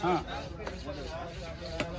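Steady, repeated chopping of a huge katla fish at the Kasimedu fish market, with dull blade thuds over continuous market bustle and background chatter.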